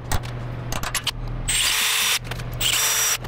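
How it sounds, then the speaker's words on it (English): A power drill bores a hole into a cracked aluminum weld, whining in short loud bursts that stop and restart, close up with no talk. "I'm gonna drill a hole right in here"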